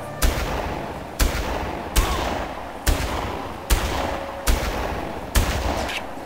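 Gunfire in the video game Far Cry, seven loud single shots spaced roughly a second apart, each with a sharp crack and a rolling echo tail, with no talking.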